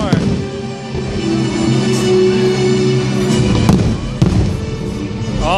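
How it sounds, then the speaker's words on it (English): A fireworks show bursting at Angel Stadium, with a sustained roar of crowd noise and rumbling booms, a few sharper bangs standing out near the end, and people talking over it. "just seconds away from our fireworks show."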